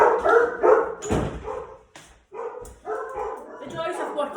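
Two dogs bark repeatedly at home, loud and close, in several bursts of barks with yips and a whimper, while a person talks over them.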